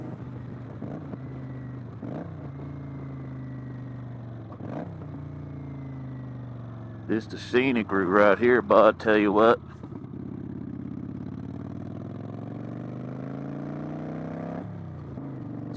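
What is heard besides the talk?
2015 Kawasaki Vulcan 900 Classic motorcycle engine while riding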